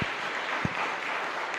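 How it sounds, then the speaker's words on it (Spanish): A congregation claps during a Catholic Mass in a chapel in Luque, a brief, even burst of many hands with a couple of sharper low thumps. "un fuerte aplauso, entonces."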